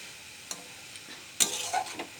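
Banana flower curry frying in a pan until the water cooks off, with a faint steady sizzle broken by a few sharp scraping stirs and clinks near the end, no talking.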